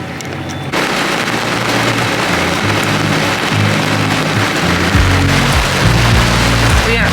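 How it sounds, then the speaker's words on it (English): Heavy rain pours down on a sailboat during a storm, a dense steady hiss that starts abruptly after a brief quiet moment and stays loud throughout, with low rumbling and thumps underneath. "We got a pretty good rain coming down."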